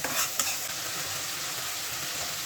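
A spice paste with ginger and garlic sautés in a pan with a steady bright sizzle, a couple of stirring scrapes at the start, close and continuous.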